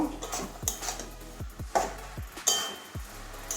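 A spatula scrapes and knocks against a pan while cabbage and fried egg curry is stirred, making a quick series of close metallic taps and scrapes in an uneven rhythm.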